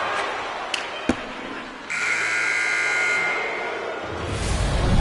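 A hockey arena buzzer sounds to end the first period: one sustained, loud electronic tone of just over a second. A sharp knock comes before it, and crowd noise rises afterward.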